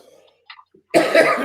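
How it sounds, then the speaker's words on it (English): A single sharp cough bursts out after a moment of near silence, preceded by faint small throat sounds. "I never cough on my other shows."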